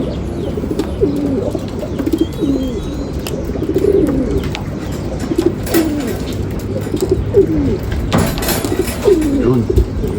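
Racing pigeons returning to the loft after a 183 km derby race from San Narciso, Quezon, coo repeatedly in soft, overlapping murmurs, close and steady throughout, with a person speaking over them.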